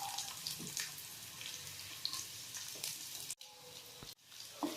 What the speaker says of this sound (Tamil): அதுக்கப்புறம் நம்ம கட் பண்ணி வச்சுருக்க வெங்காயத்தை ஆட் பண்ணிக்கலாம்.